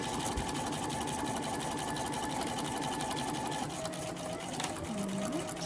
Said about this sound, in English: then I'm just going to stitch along and make sure the vinyl is lined up